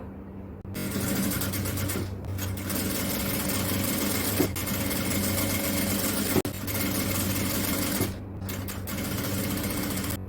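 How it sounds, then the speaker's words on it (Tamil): A sewing machine runs in steady bursts while piping is stitched onto sleeve fabric for an XL jalabiya, a close, even motor whir with needle chatter, stopping briefly between runs with a few sharp clicks. "ஃபர்ஸ்ட் இந்த கைக்கான துணியில பைப்பிங் தைக்கிறதுக்காக நாம இந்த மாதிரி வச்சு தைக்கலாம்"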